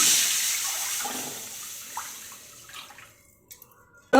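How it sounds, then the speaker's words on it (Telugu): Water that had been soaking tamarind is poured into a cooking pot, a trickling pour that gradually fades to quiet drips before a sudden sharp knock at the end. "ఆ నీళ్ళు అయితే పోసుకుంటున్నాం"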